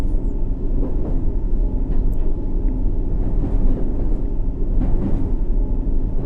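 D-stock District Line Underground train in a subway simulator rolling along the track, a continuous heavy low rumble with scattered clacks from the rails and a faint high squeal near the start.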